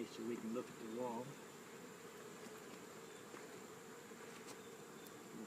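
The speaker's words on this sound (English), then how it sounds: "those bees, they're circling like the railroad or the wagon train" Honeybees drone in a faint, continuous buzz around a hive wall where they circle a queen, with brief talk at the start over the low hum.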